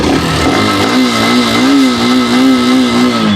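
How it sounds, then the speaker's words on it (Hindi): A TVS Raider 125 or Hero Xtreme 125R, a 125cc single-cylinder motorcycle, runs steadily up close, its engine note holding a strong, slightly wavering hum with small throttle swells and no talking. "एक बार गाड़ी को स्टार्ट कर लेते हैं और साउंड सुन"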